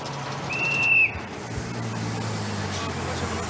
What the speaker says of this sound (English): heard the policeman's whistle just in time to let go.